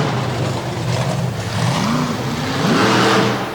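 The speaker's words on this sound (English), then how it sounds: "Brad Shippert and Doug NOELKE off the line real strong" Monster trucks accelerate hard off the starting line at a Madison, Wisconsin monster truck event, their engines roaring loud and steady with rising revs throughout, close and continuous.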